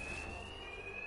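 A steady electronic alarm tone rings continuously in Batman: Arkham Knight, a single sustained high pitch held against a dense bed of background game noise, with no voices over it.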